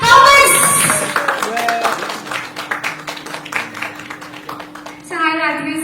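Applause breaks out for a young actor at a film promotion event: dense, steady clapping fills the middle of the clip and then fades, with voices talking around it.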